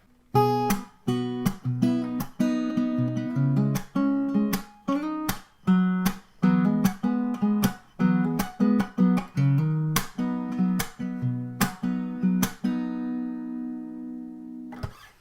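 Solo guitar plays a brisk intro riff of plucked notes and chords in a steady rhythm, closing on a final chord that rings out.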